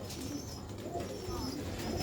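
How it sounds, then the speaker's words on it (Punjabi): Bateray pigeons from Sialkot coo softly in a loft, low murmuring calls repeating over a steady background hum for about two seconds, no speech. "ਐ ਜੇ ਸਿਆਲਕੋਟ ਦੀ ਪਹਿਚਾਨ ਬਟੇਰੇ ਕਬੂਤਰ"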